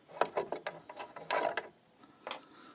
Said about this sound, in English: you have to undo this little bracket